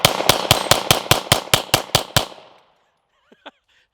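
Ten sharp gunshots crack in a fast, even string from a Hudson H9 pistol emptied in one rapid burst, each report loud and close. A short silence and a couple of faint clicks follow.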